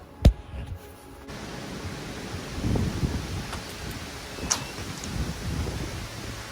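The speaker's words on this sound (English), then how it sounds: "it is windy out" Wind blows steadily outdoors beside a smoker cooking a pork loin, a broad rushing hiss, gusting a little louder midway, with a sharp tap near the start.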